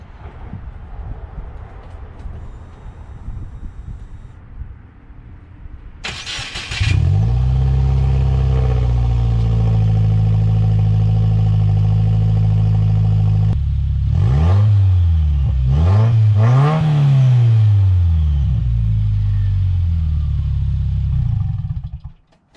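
A 2018 Subaru WRX with no catback exhaust cold-starts with a sharp crank and catch. It settles into a loud, raspy high idle close by, blips and revs in the middle, then shuts off at the end.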